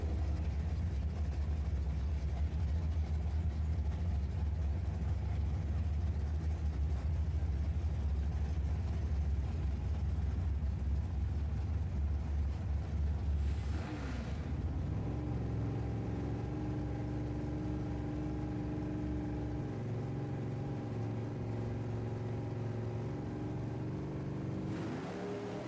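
An Oldsmobile and a Plymouth Barracuda drag race down a quarter-mile strip, with a loud, sustained engine roar that shifts pitch midway and settles into a steady drone as the cars run.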